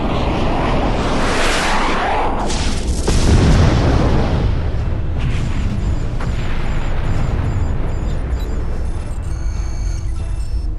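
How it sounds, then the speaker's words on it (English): Star Trek photon torpedoes fire with a loud, swelling, booming blast that sweeps and then trails off into a long, ringing electronic decay, with no voices over it. "Fire photon torpedoes."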